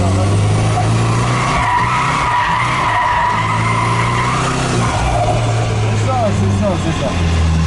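A Nissan S14 lapping a race track, its engine droning steadily throughout with tires squealing and skidding through corners, loud and close, with a voice speaking over it.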